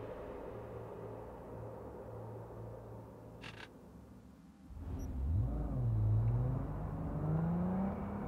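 A car in the video game Cyberpunk 2077 idling with a low hum, then its engine revving up hard. The pitch climbs and wavers through several rises and dips as the car accelerates, loud and close, with no talking.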